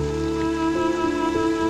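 Steady rain falls as an audio drama sound effect, a continuous hiss of drops with a low droning hum beneath, even and unbroken with no voices over it.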